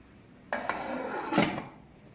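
A lid set onto a cooking pot of mixed vegetables and chicken, giving a bright metallic clatter and a second rattling clink as it settles, close and distinct.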